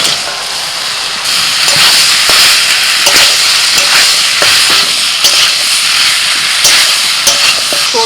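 Fried vegetables and a catla fish head are tipped into a cooked spice paste, giving a loud, continuous sizzle with repeated stirring scrapes and spitting crackles throughout.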